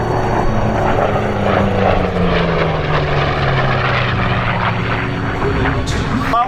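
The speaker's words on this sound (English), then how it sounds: "Here comes the F8F Bearcat." An F8F Bearcat warbird flying at the Yuma airshow, its piston engine and propeller a loud steady roar with a slowly falling pitch as it passes, under a voice speaking.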